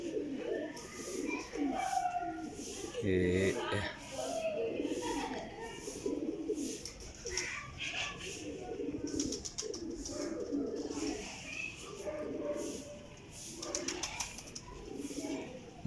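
Pigeons perched on a rooftop coo repeatedly in soft, throaty bursts, close by, with a voice speaking briefly and some background rustle.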